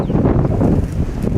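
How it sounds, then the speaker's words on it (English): Strong gusts buffet the microphone outdoors in cold weather, a loud continuous low rumble of wind noise with no talk. "it's getting unreasonably windy again"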